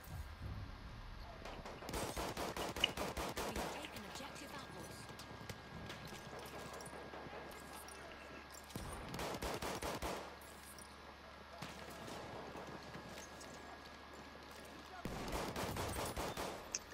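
Bursts of automatic gunfire in a Battlefield 1 match, three separate volleys of rapid rattling shots spaced several seconds apart, fairly loud against a quieter battlefield backdrop.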